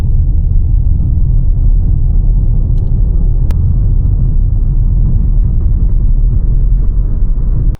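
A car drives a road in Kazakhstan between Almaty and Charyn Canyon, a loud, steady low engine and road rumble filling the cabin without break, with no talk.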